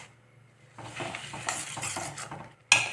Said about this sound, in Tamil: தேங்காய் சேர்த்துட்டு ஒரு 5 மினிட்ஸ் நல்லா கிளறிட்டே இருக்கணும்.